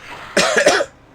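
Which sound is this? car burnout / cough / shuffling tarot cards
cough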